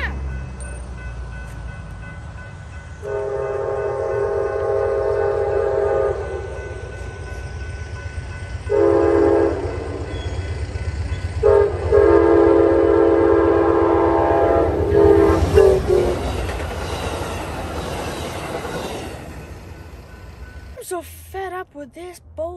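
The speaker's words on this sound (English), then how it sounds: "It's Amtrak 108! It is? Yeah! It's the requalification train!" An Amtrak 108 requalification train passes on the tracks with a steady rumble, sounding its horn in several long, loud blasts, close by, while voices talk near the end.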